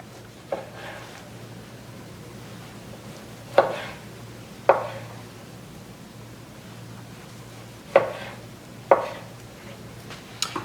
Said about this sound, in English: So we're going to go ahead and cut a couple of slices of pork.